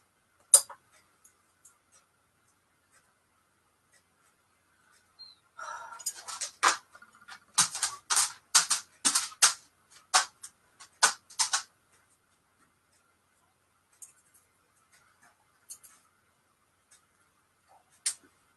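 Material being cut for a bunny wreath makes a burst of short, crisp cutting snips close by, clustered in the middle with long near-silent stretches before and after and a few stray clicks at the ends.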